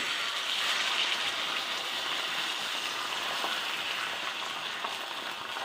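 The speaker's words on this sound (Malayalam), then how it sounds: "മുട്ട നമുക്ക് ഇതിലേക്ക് ഒഴിക്കാം" Salted country egg, mixed with sugar and pepper, hits a hot pan and fries with a steady, even sizzle like light rain, moderately loud and close throughout, with no voices.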